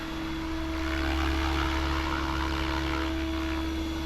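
Remote-controlled propeller aircraft flying just after taking off from a deck, its engine a steady, loud droning buzz held close throughout, with no voices over it.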